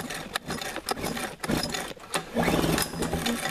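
Pull-starting the small engine of an abandoned motorized surfboard after spraying WD-40 into the cylinders: several quick rasping cord pulls that turn the engine over without catching, close and fairly loud.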